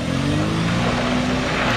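Jeep Cherokee XJ engine droning steadily while stuck in mud, a continuous close rumble with a slight rising pitch and no voices.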